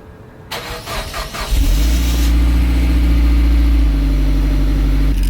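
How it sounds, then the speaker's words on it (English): A Mitsubishi Evo X on its stock exhaust cold starts: starter cranking for about a second, then the engine catches with a loud burst and settles into a high, steady cold idle, close by. "it's gonna be the last cold start on the stock exhaust in the EVO 10"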